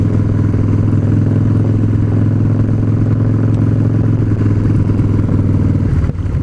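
A Harley-Davidson Dyna Street Bob motorcycle on a test ride gives a loud, steady, low engine drone that holds an even pitch throughout, with a slight dip near the end and no speech.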